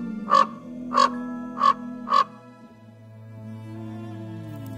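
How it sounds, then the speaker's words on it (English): A crow gives four evenly spaced, loud, harsh caws close by, then falls quiet while a low sustained musical tone continues underneath. "My messenger bird has returned."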